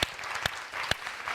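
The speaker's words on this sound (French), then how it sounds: "On va vous applaudir très fort, s'il vous plaît" Studio audience applause during a live French morning television broadcast, bursting in short loud swells of clapping with sharp peaks, filling the brief moment without any talking.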